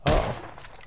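A single sharp rifle shot from the video game The Order 1886, one quick crack that decays fast, fairly quiet and alone.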